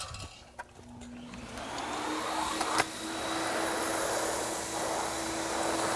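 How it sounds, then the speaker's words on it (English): A vacuum motor winds up to a loud, steady roar with gritty hissing as residual sand is sucked off concrete, and a few sharp clicks and knocks early on. "Let's go ahead and start the vacuum. And we want to get all of the residual sand."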